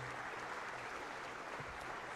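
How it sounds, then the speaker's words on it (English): A church congregation applauds during a Sunday service, a continuous, fairly soft wash of clapping with a faint voice underneath. "So absolutely round of applause."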